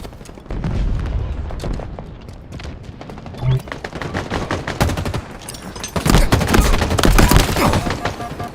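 Shooter video game gunfire, with repeated sniper and rifle shots and bursts of automatic fire sounding over a steady backdrop of game ambience, growing denser and louder toward the end, with a voice talking faintly at times.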